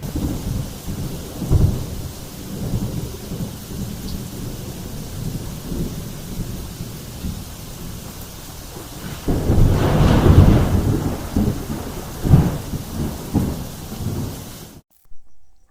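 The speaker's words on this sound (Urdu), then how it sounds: "بہت شدید آندھی چل رہی ہے" A very strong windstorm blows at night, with loud roaring gusts and deep rumbling that swell in the middle. It continues steadily without voices, then cuts off abruptly at the end.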